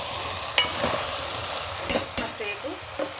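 A fenugreek and tamarind curry stirred in a pan, with a soft ongoing sizzle and a handful of sharp scraping clicks from the spoon against the metal.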